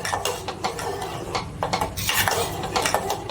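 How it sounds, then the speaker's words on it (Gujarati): Kheer being stirred in a pot after cardamom powder goes in, a spoon clattering and scraping against the metal in quick, uneven strokes, close and loud with no talking. "હવે આપણે આમાં એલચી પાવડર નાખીશું જાયફળ પણ નાખી શકાય બધું મિક્સ કરી લઈશું"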